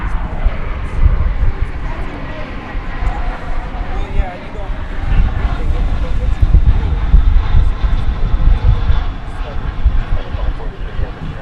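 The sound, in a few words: Airbus A321neo airliner, American flight 2483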